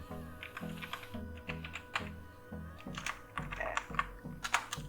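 Quick, light keystrokes on a computer keyboard during a software tutorial, typed in a steady run of soft clicks over faint background music.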